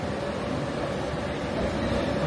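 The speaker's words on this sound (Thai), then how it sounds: "นี่ทุกคนรถไฟออกมาแล้ว" Steady rumbling rail noise with a broad hiss, constant and fairly close, as a train rolls along.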